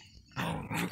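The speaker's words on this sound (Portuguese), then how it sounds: "Esse cachorrinho aqui é alegre." A small dog at a rural home in the Brazilian sertão gives a short, close, low growl that swells in two quick surges over about a second.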